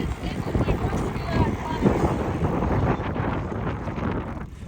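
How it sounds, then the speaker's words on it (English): Strong wind buffets the microphone outdoors at the Ironman 70.3 World Championships, a heavy, gusty rumble swelling and easing throughout, with talk partly masked underneath. "It's very windy."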